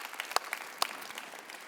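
A keynote audience at a corporate world tour event gives brief, sparse applause, with a few distinct claps standing out over a soft, distant patter.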